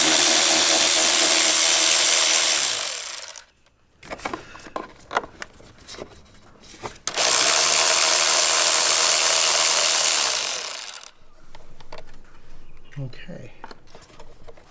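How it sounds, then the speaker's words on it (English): A ratchet with a 10mm socket loosens the battery hold-down nuts on a Jeep JL Wrangler. There are two loud, sustained whirring runs of a few seconds each, separated by quieter clicks and handling noises. "I just need to go ahead and remove these 2 nuts, and then we can pull the battery out and replace it. Okay, again using a 10mm socket."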